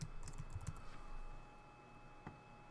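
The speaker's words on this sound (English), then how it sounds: "I'll type what it is" Quiet, close typing on a computer keyboard: a quick cluster of key clicks, then a pause and one more isolated keystroke.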